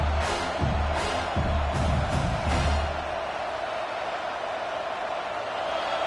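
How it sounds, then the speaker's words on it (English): An early-game football crowd is fired up, with several loud surges of roaring and whooping in the first half that settle into a steadier, slightly quieter rumble of crowd noise. "It's early, but this crowd is fired up. Listen to this noise here."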